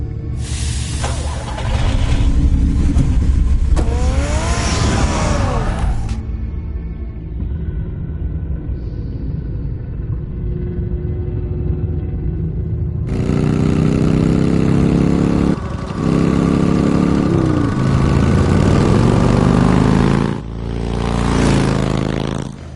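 Batmobile engine in Batman: The Telltale Series, a steady low rumbling drone with scraping and shifting tones, swelling louder in stretches with no talk over it.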